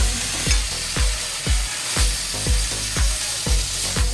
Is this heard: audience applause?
no